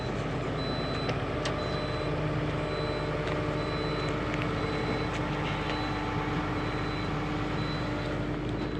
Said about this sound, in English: Just hit the alarm stop button.